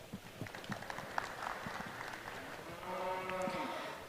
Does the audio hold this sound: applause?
yes